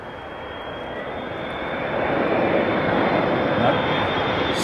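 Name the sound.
Saudi Arabian Airlines airliner landing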